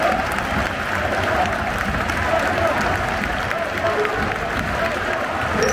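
Football stadium crowd at the Lille vs Lens derby breaking into loud, sustained applause and an ovation, a thick roar of clapping and voices filling the whole stretch.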